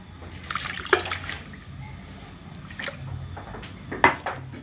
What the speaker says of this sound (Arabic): ندير له كاس تاع ماء